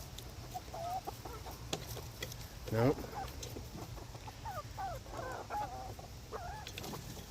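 Young chickens cluck and chirp softly at their coop at bedtime after dark, with scattered calls and one louder squawk over a steady background hiss, and a person speaks briefly.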